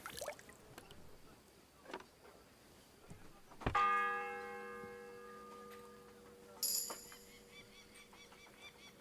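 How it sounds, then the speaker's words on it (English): A single heavy church bell strikes in a medieval game village, its deep tone ringing out and slowly decaying, then a brighter chime follows, with faint ambient sounds before it. "The first bell."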